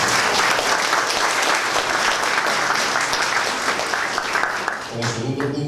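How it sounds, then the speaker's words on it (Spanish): An audience at a university legal seminar breaks into sustained applause, a dense, steady wash of clapping that fades near the end as a voice begins speaking. "Fuerte aplauso para la palabra."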